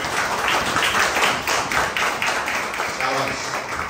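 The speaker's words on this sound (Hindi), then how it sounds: "प्रेज़ द लॉर्ड, जोर से ताली बजाओ।" A church congregation at a Sunday service claps loudly together in a steady, fast rhythm, a dense run of overlapping claps that keeps going for about four seconds at even volume.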